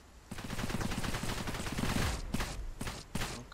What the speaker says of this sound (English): Carpet bomb incoming.